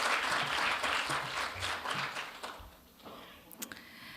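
An audience at a governance and innovation forum applauds a professor's presentation, with full, sustained clapping that fades out over a few seconds, leaving scattered final claps and room noise.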